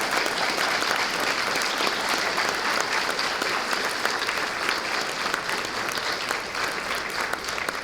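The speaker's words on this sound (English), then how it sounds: "So if you'd please stand up for a round of applause." Steady, dense applause from a graduation ceremony audience that has risen to its feet, sustained at an even level throughout with no voices standing out.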